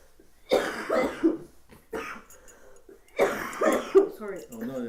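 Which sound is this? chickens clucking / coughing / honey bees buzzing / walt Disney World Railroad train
coughing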